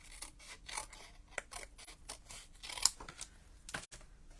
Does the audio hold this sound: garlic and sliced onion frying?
no